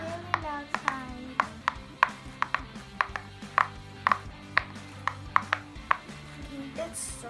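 A pop-it fidget toy pressed on its loud side, giving a quick run of sharp, close popping snaps at an uneven rhythm, about a dozen and a half in a few seconds, with a brief voice near the start.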